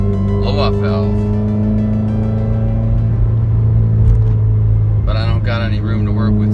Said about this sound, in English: I'd like to give you a better example of the blow-off valve